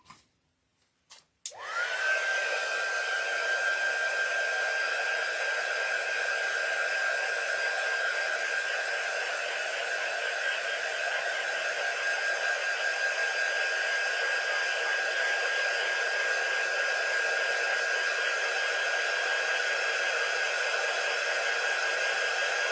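A hair dryer blows over freshly painted crystal blue on a polar bear shelf sitter. It clicks on and then runs as a loud, steady, close whoosh with a constant whine for about twenty seconds.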